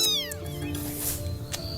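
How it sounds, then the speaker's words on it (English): Several kittens meow in quick, overlapping high cries, one after another close by, set among cats at a roadside fruit stall in Taiwan at sunrise. "There are kittens!"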